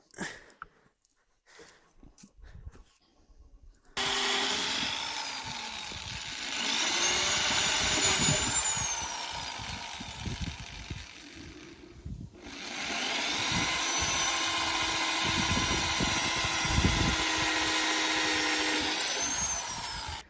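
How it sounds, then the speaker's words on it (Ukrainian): Power drill boring screw holes into hard oak boards in a village yard, whirring in two long bursts separated by a short pause, fairly near and steady. "Дошки дубові, цвяхи не полізуть, то Славік під шурупи робить"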